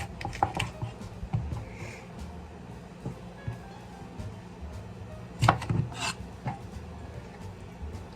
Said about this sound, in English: And we're going to julienne them